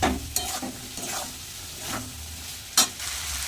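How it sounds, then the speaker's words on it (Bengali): Soybean chunks and potatoes stirred in a pan with a spice paste, scraping strokes and soft sizzling coming in short bursts, with a sharper clank near the end. Close and moderately loud, with no talking. "দিয়ে দেবো এবার গুলিয়ে রাখা মশলাটা। ভালো করে মশলা দিয়ে কষিয়ে নেব।"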